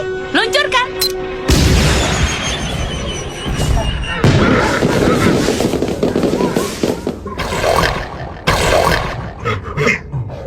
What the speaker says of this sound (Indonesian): Peluru kembang api, luncurkan.